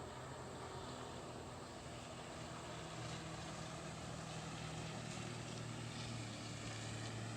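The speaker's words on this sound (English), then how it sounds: "Somebody on a jet ski." A jet ski engine runs out on a lake, a steady distant motor drone that holds at an even, moderate level throughout, heard from a wooded trail in a state park.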